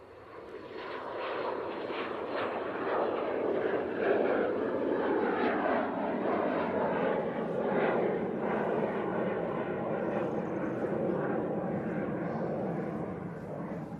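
Pilatus PC-24 business jet taking off at Manchester Airport, a sustained loud engine roar with a broad rushing whine that swells and holds steady throughout before easing slightly at the end.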